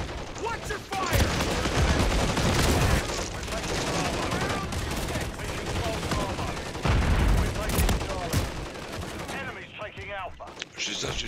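Call of Duty Zombies gunfire keeps up a dense, loud, continuous stream of shots and bursts for about ten seconds. Game voices shout over the shooting, and the firing thins out near the end.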